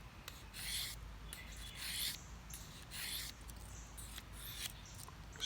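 A Victorinox Fieldmaster Swiss Army knife's stainless steel blade is stroked across the fine side of a sharpening stone, about five quiet, close scraping passes in a slow rhythm.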